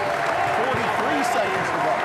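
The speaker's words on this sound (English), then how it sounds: "The crowd is on its feet chanting Harry." A basketball crowd on its feet cheering and chanting for coach Harry Statham as he nears his 1,000th career win, a steady wash of applause and voices with an announcer talking over it.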